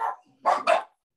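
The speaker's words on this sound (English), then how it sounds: "Is that your dog?" Dog barking three times in quick succession, close and fairly loud, with brief gaps between the barks.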